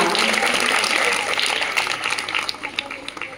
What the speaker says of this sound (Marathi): व्हेरी गुड, जोरदार टाळ्या.